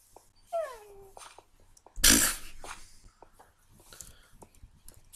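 Dog in the video game Minecraft whimpering, a thin falling whine near the start followed by a loud burst of game noise and scattered clicks and effects.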